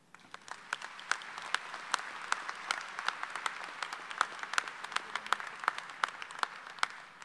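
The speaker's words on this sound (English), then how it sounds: "Give them another round of applause." Applause at a university commencement ceremony, a sparse, quiet patter of hands from a large hall, with distinct individual claps standing out in an irregular rhythm.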